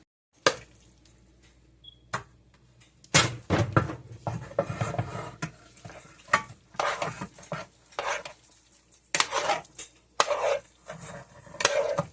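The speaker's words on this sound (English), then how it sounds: "And then I'm going to transfer this into a pan." Food is scraped and spooned into a cornbread pan, with sharp clanks and knocks of a utensil against metal between softer scraping and shuffling, close and uneven in rhythm.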